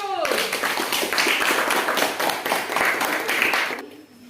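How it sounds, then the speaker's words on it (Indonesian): A classroom full of students claps for group 1 after its presentation, dense continuous applause at close range for about four seconds before it tapers off. "Beri aplaus kepada kelompok 1."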